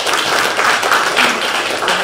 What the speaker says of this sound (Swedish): En stor applåd till hela panelen.